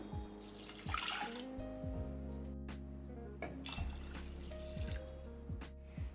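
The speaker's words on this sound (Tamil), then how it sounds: "பருப்பு வேகிற அளவுக்கு இப்போ தண்ணி சேர்த்துக்கலாம்." Tap water poured into a pot of washed toor dal (split pigeon peas) for tiffin sambar, a steady close splashing pour with drips, running continuously under faint kitchen hum.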